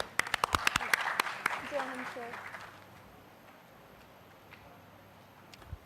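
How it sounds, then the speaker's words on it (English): Audience welcoming a speaker with a round of applause: a few sharp, close claps at first, then a fuller burst with a brief voice over it, fading to quiet by the halfway point. "Please welcome him with a big round of applause."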